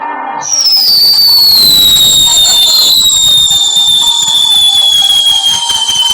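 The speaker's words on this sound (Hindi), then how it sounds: "एक बड़ा वाला स्काई शॉट जलाता है।" A sky shot firework launches with a loud, sustained whistling screech that slowly falls in pitch, crackling and hissing underneath, close and very loud.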